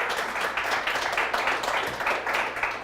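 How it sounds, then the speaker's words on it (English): A small audience at a startup fireside-chat event claps warmly for a guest, a moderate, continuous patter of hands lasting a few seconds with no talk. "round of applause for Stacy for being here"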